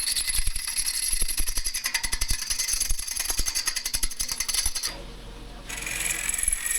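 A bowl gouge makes a peeling cut on a black walnut sapwood bowl spinning on a lathe: a loud, rapid, rhythmic chattering scrape that pauses briefly near the end, then resumes.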